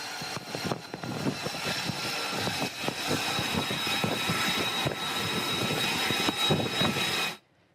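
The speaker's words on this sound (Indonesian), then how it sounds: "Pesawat bertugas untuk beroperasi dan melintasi di Laut Arab." A US military aircraft flying over the Arabian Sea gives a steady, broad engine roar with a whining tone, loud and continuous for about seven seconds before cutting off abruptly.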